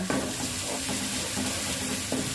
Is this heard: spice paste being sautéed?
yes